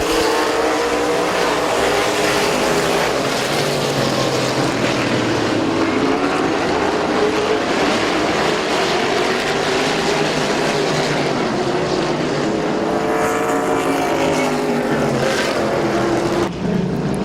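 Late model race cars roar around a speedway oval during a 30-lap feature, a dense, continuous engine drone that swells and shifts in pitch as the pack passes, loud and steady throughout.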